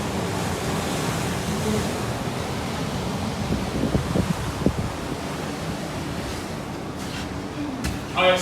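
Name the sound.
ocean waves at Cape Coast Castle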